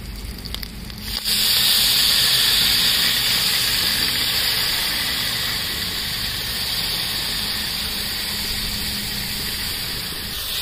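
Soaked, swollen lentils are tipped into a hot pan with ginger, setting off a sudden loud, hissing sizzle that settles into a steady, slightly quieter frying sound.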